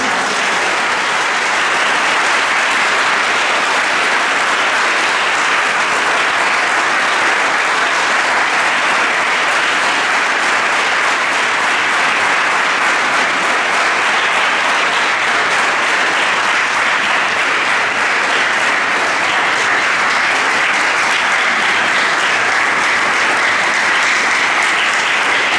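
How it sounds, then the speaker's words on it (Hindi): Sustained loud applause from a large audience at a school debate competition, dense and unbroken clapping filling the whole stretch. "जोरदार तालियों"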